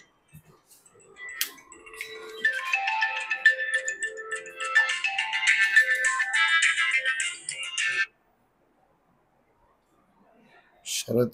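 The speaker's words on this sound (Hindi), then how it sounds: "शरद क्यों फोन कर रहा है?" A phone ringtone plays a bright repeating melody for about eight seconds as a call comes in, loud and close, then cuts off, with a short voice at the end.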